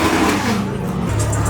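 A Camaro engine revs hard and close, a loud, sustained roar with a rising growl near the end, while people talk over it.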